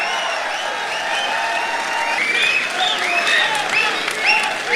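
A mushaira audience breaks into loud, sustained applause to welcome a poet, dense clapping from a large crowd that swells toward the end, with scattered whistles and cheers over it.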